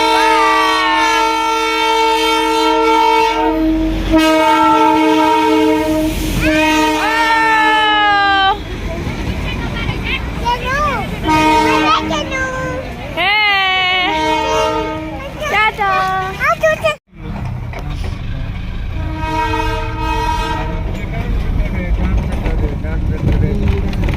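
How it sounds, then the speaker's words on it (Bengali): Darjeeling toy train passing on its hill line, sounding a long, loud horn in sustained tonal blasts with pitch bends, over a steady rumble, while voices talk around it. "ট্রেন"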